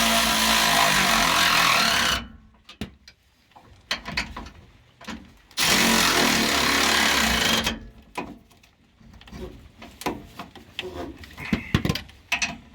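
Bolts on the carrier bearing strap of a 2003 Nissan Frontier are run down with a power tool in two loud sustained buzzing bursts, followed by scattered clicks and metallic handling sounds.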